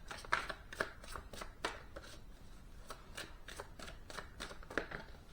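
Tarot cards are shuffled by hand in quick, crisp riffles and slaps at an irregular rhythm, close up and fairly soft, with no one talking.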